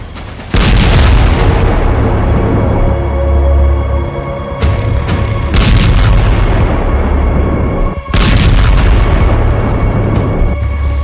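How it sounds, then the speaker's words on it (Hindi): Several powerful, booming explosions in Beirut, very loud and close, each followed by a long rumbling roar that fills the space. "बेरूत में भीषण धमाके"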